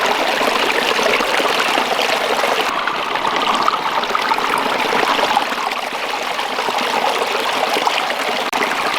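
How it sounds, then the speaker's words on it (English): Water rushes steadily through a gold prospecting sluice box, a patented classifier-style design set in a stream, making a continuous loud broadband wash with no talk. "the only place I've got enough water to actually run this sluice today"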